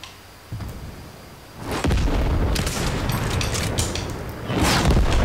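In Fortnite, a tank fires on a player, producing loud, deep explosive booms that roll into a sustained rumble of blasts and impacts, heavy and close, with no talking.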